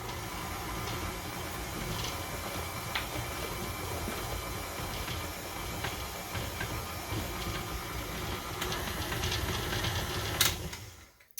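A stand mixer creams butter with orange zest for orange spice cookies, running as a steady, dense whir throughout before cutting off abruptly near the end.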